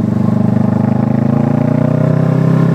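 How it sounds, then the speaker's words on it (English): A motorcycle fitted with a loud aftermarket exhaust runs close by, with a steady, throaty, pulsing drone that rises slightly in pitch toward the end. "a lot of people said about the exhaust is that it's too loud"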